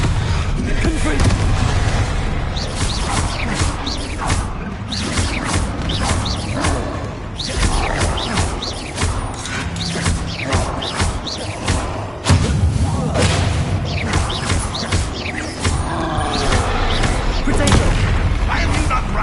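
Confringo explosive spells blast repeatedly in the video game Hogwarts Legacy, loud booms and thuds piling up among dense combat effects and clashes, continuous and close throughout.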